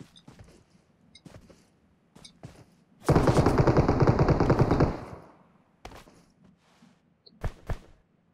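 Gunfire in the mobile video game PUBG Mobile: a dense burst of rapid automatic shots lasts about two seconds, loud against otherwise quiet game sounds, with a few sharp isolated cracks before and after.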